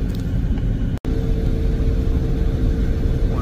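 A Buick Rendezvous driving on the road gives a loud, steady interior rumble of engine and road noise, broken by one brief dropout before the droning continues unchanged.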